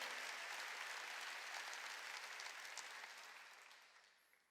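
A church congregation applauds during a sermon, a dense, steady wash of many hands clapping that holds for several seconds and then fades out toward the end.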